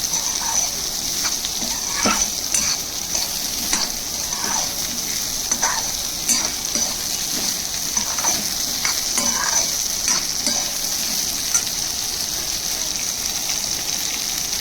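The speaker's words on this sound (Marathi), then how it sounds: "आता तेच जे कट करून घेतलेले करटुले होते ते टाकले. ते पण असे चांगले परतून घ्यायचे." Chopped spiny gourd (kartule) fries in oil in a pan with a steady loud sizzle, while a spatula scrapes and stirs it in frequent irregular strokes close by.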